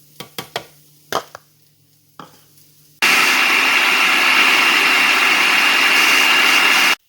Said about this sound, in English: I'm going to add 1 cup of oats to the food processor, and I'm going to grind it into flour